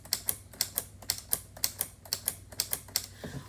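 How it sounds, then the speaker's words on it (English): Keys on a LEGO Ideas typewriter model click in a steady rapid rhythm, a dozen or more crisp close plastic taps, with the carriage shifting along in the quiet. "So as you type, the carriage moves over to one side."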